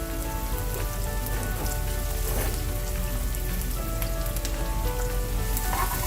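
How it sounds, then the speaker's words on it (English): Onions cook down slowly in a pan for a tilapia and green mango fish curry, giving a steady, close, dense sizzle and crackle with no talking. "I'm gonna cook this down nice and slow till the onions are golden brown"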